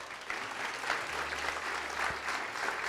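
A church congregation applauds during a worship service, the clapping a dense, steady wash of many hands at moderate level across the whole stretch, with a brief low thump near the end.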